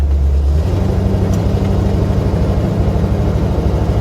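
An Intermeccanica Murena 429GT's engine pulls under acceleration from inside the car, a loud, steady, deep throbbing rumble with a pulsing beat and no talk.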